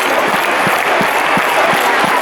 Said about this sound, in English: I'd like to clap them together to this beat.